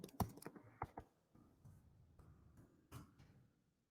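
A command typed on a computer keyboard, a short burst of close, crisp key clicks followed by a few scattered softer taps in a quiet room.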